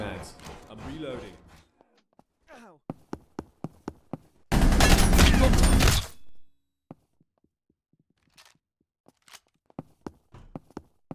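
Gunfire in Vampire Hunters 3 comes as sharp, scattered shots and a dense two-second burst of rapid fire, with people talking between the bursts.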